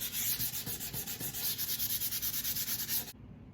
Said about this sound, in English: I've sanded the whole underside of my board here